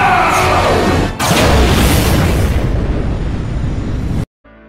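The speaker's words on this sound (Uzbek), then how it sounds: "Va Qora Adamni ustiga tushadi va katta portlash hosil bo'ladi." A lightning strike and a huge explosion in a film battle scene make a loud, sustained roaring blast that cuts off abruptly, leaving only a faint tail.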